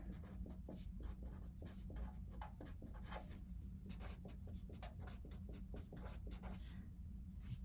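Continuous tapping and scratching of writing on a board during a physics lecture, steady strokes in quick irregular rhythm, close and fairly faint against a soft room hum, with no talking.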